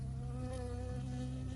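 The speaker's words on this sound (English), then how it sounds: "I got stung by a bee" A bee buzzing in a console video game, a close steady drone with a wavering whine, continuous and alone with no voices.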